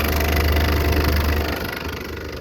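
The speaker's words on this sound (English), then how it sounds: "Here's a PTAC unit that sounds terrible." A PTAC air conditioner unit in a hotel runs roughly with a suspected failing fan motor, producing a steady, loud, close drone with a deep low hum and a rattling, vibrating texture that eases slightly toward the end.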